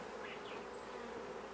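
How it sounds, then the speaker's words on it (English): Honey bees buzz around a hive in a steady, faint, even drone, with no voices over it. "sweep the bees back into the hive using a brush, putting it into a box and covering it"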